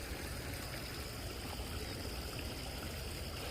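Steady, even rush of flowing water, like a small stream, running continuously through a fish rescue pond with no pauses and no voices.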